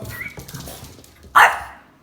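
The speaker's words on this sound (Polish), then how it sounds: "Młody chce się bawić, a ta stara szczeka na niego." An older dog barks once sharply at a younger, playful dog indoors, a single loud bark after quieter whimpering and rustling.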